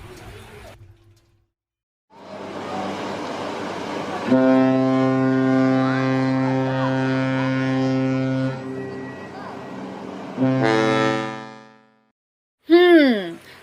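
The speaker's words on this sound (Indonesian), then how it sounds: "Hebat, itu adalah bunyi feri." A deep, sustained ferry horn blasts loudly for several seconds, followed by a shorter second blast and a brief high tone at the end.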